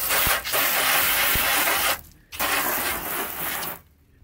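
High-pressure water jet hissing onto a car hood coated with Turtle Wax ceramic wet wax, loud and close, with two brief pauses as the spray cuts out and resumes.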